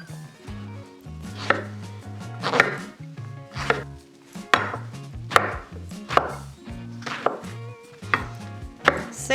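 A knife slices through an eggplant on a cutting board, giving about ten crisp, evenly spaced chops that land close and clear, with faint music running underneath and no talking.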